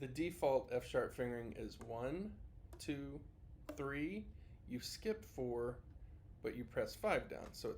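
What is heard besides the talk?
No distinct noise like a dog, phone or traffic.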